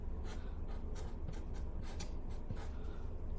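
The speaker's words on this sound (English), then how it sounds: "So let's write the same kanji." A Japanese pen with a thin tip writes kanji on paper, giving soft, close scratching strokes in a quick irregular rhythm, each stroke a short hiss, with no talking.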